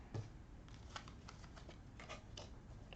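Playing cards being shuffled close up, a quiet papery riffle with repeated flicks and soft snaps over a low steady background hum, no voices.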